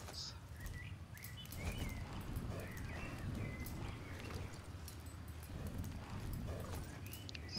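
Horse hooves clip-clop at a steady riding pace in the Star Stable video game, moderately loud, with light birdsong chirping over the top and no talking.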